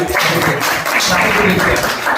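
An audience claps loudly at a business plan presentation, a dense, steady wash of close applause lasting the whole stretch, with voices mixed into the noise.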